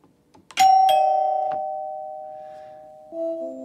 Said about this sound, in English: I'm going to hit the button. The chime's going to sound and the voltage is going to drop